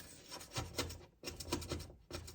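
A flat-held scraper rasps over a stuck spot on a kitchen surface in quick scraping strokes, several short bursts with a brief gap between groups, close and fairly loud with no talking.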